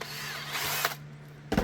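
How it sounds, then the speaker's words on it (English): A power drill whirs steadily for about a second, then stops briefly before another short burst of the motor, drilling through a holster workpiece. "Drill."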